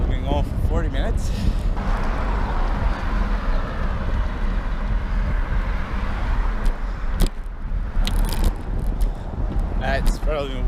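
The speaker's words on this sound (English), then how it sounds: "I'm going over the 417 now. Might be able to hear all the vehicles." Steady roar of highway traffic on the 417, heard from a bicycle crossing over it, a continuous dense wash of passing vehicles with a few sharper bumps and rattles near the rider.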